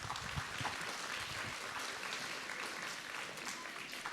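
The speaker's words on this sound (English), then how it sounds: "let's all together give them a huge round of applause." Fairly faint, even applause from a school audience at an Earth Day campus gathering, a continuous soft patter heard from some distance.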